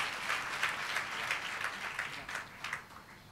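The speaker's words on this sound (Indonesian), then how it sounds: "Tepuk tangannya boleh di-extend buat worship leader, singers, dan para musicians." A church congregation applauds the worship leader, singers and musicians, steady dense clapping filling the room throughout without a break.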